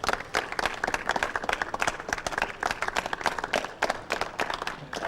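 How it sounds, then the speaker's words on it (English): Audience applause for Gavin Hastings at a road hole bunker golf challenge: dense, steady clapping from a crowd held at even loudness throughout, with no talk over it. "Can we give Gavin Hastings a lovely big round of applause?"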